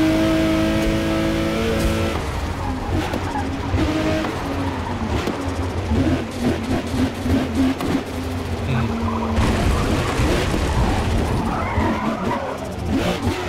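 Race car from Forza Motorsport driving at Virginia International Raceway: loud, continuous engine drone with gear-shift pitch steps and tire skidding on tires poorly suited to the track, steady throughout.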